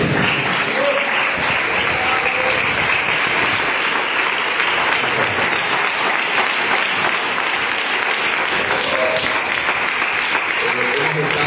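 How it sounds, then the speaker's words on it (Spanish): Church congregation applause at a thanksgiving service fills the room, steady and loud for about eleven seconds, with a dense wash of many hands clapping and occasional voices mixed in. "vamos a darle un aplauso al que vive para siempre"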